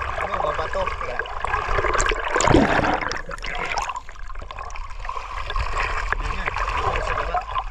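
Flowing water of the Agos River in Infanta, Quezon: a constant rushing flow with a louder splashing surge near the middle, and voices talking over it.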